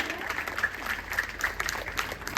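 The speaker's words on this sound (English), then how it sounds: "Now round of applause for them" Audience clapping for children at a kids' sports day, a moderate crackle of many hands with scattered sharper claps, fairly steady and slightly distant, with little talk over it.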